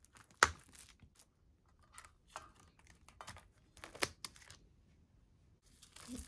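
Tape is peeled off a frozen cake mold in short crinkly rips and plastic rustles, one sharp tear near the start followed by scattered quieter crackles.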